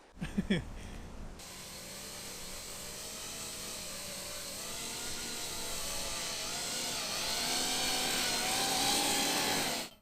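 A Coanda effect drone takes off at about half throttle with a loud, steady whirring roar that rises slightly in pitch and intensity, following a few brief mechanical clicks at the start.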